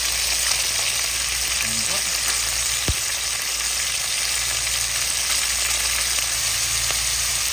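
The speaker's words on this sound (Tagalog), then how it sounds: "I-prito po natin ang ating mga manok." Chicken wings frying and browning in hot oil, a steady loud sizzle with occasional stirring, and a brief spoken remark over it.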